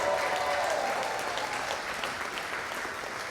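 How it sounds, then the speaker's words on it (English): An audience at a city's midterm State of the City address applauds in a continuous, moderately distant round of clapping that holds steady and slowly tapers toward the end. "How about a round of applause again for Xander?"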